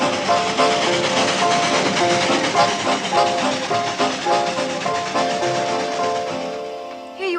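A train rumbles and clatters steadily along the track, loud and close, with hissing and rhythmic mechanical clanking.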